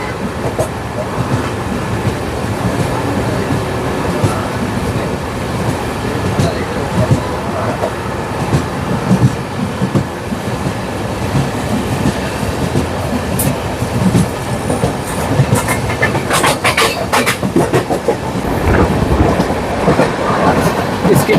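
The Coromandel Express rushes past Gummidipoondi railway station with a loud, continuous rumble and rattling wheel clatter, growing denser and harsher toward the end, with faint talk in the background.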